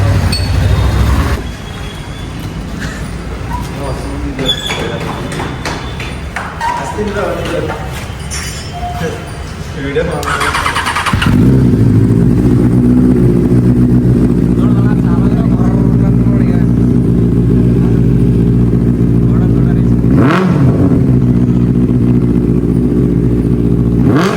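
Motorcycle engine with an aftermarket exhaust, around 55,000 rupees, fired up and held at a loud, steady deep idle with a sharp rev blip near the end, after background clatter and voices.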